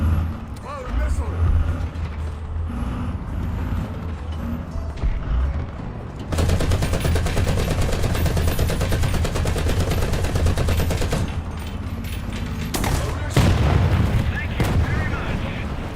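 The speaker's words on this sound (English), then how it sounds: "I don't know why I thought I could 50 cal him at that range." War Thunder gameplay carries rapid, continuous .50 caliber machine gun fire from a tank, with dense bursts mixed with game sounds and an engine rumble over about sixteen seconds.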